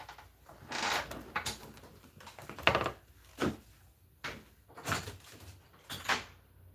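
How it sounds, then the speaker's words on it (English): Several separate thuds and bumps of a door opening or closing indoors, spread across the stretch with short quiet gaps between them, moderately loud and with no talking over them. "I heard a door."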